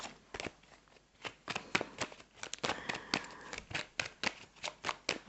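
Rapid papery riffling and snapping of cards being shuffled close by, a rhythmic run of crisp flicks with a brief flurry in the middle as a card falls out.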